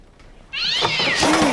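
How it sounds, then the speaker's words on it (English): A cat lets out a loud, drawn-out meow that rises and bends in pitch, starting abruptly after a quiet moment and ringing clearly with no talk over it. "It was just a cat."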